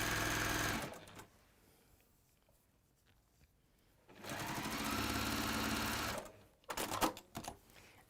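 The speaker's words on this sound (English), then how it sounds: "So stitch down both sides, it reinforces it, gives it a little bit more oomph." A sewing machine stitching down both sides of folded fabric, running in two loud continuous bursts separated by a quiet pause, then a few short choppy runs, close by and with no talking.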